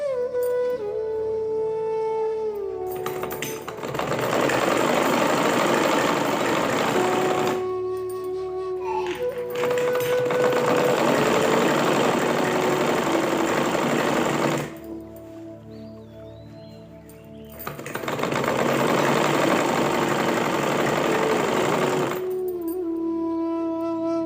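A sewing machine stitches a pillow cover in three sustained runs separated by brief pauses, close and fairly loud, with faint tonal background sounds between runs and no talking.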